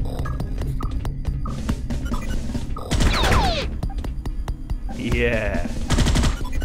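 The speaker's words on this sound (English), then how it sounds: "I might as well just fire my fucking gun so I can see something" Rapid bursts of gunfire from a weapon in the sci-fi shooter Space Beast Terror Fright, loud and close, with sharp repeated shots over a constant game drone and a brief word spoken.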